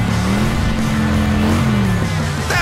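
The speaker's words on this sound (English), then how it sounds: "Strong start for both trucks as they fly down the rolling hills" Monster trucks Mega Rex and Radical Racer racing down rolling hills, their engines roaring loudly and continuously with rising and falling pitch as they accelerate.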